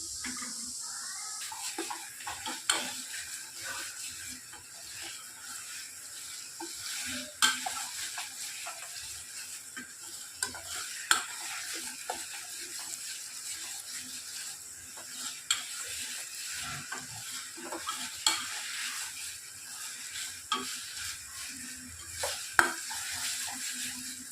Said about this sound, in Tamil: இது நல்லா ரெண்டு மூணு நிமிஷம் நல்லா மசாலா கொதித்து வரட்டும்